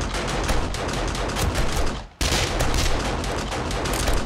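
Automatic turrets in 7 Days To Die fire nonstop at a zombie horde at night, a dense, loud rattle of gunshots broken only by a split-second pause midway.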